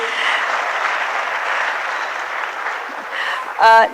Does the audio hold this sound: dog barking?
no